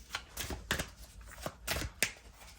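Several quick riffling bursts of playing cards being shuffled, close and crisp, with short pauses between each flurry.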